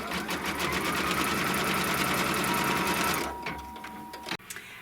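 An embroidery machine stitches a straight trim line across hooped fabric, a rapid even mechanical chatter running loud and steady, then stopping with a couple of clicks near the end.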